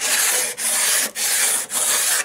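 Sharpening stone for wood chisels being rubbed flat: four long, loud strokes of steady gritty scraping, each separated by a brief pause, close up with no voices.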